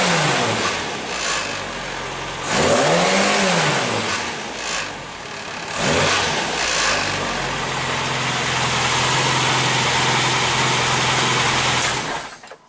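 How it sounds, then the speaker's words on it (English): Cold car engine being prepared for Castle Combe, idling loudly up close, then rising in a smooth rev that sweeps up and back down, followed by further revving and a sustained high-pitched drone before it cuts off. "It seems to be revving freely enough."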